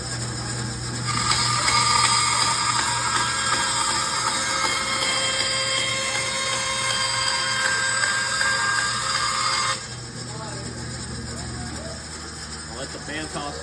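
In a woodworking shop, a bandsaw cuts through a wooden board with a loud, steady whine and grinding buzz for several seconds. The cutting tone then drops off and the motor keeps running quieter as it winds down, with a voice speaking at the end.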